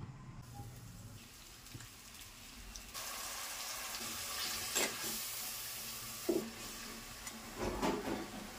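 Onions frying in a pan for a Pulasa fish curry, giving a soft, steady sizzle with a few louder stirring scrapes toward the end, and no talking.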